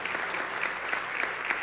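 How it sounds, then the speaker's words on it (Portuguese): A church congregation applauding, a soft, steady wash of many hands clapping heard at a distance, fairly faint and unbroken. "Você pode dar um aplauso ao Senhor?"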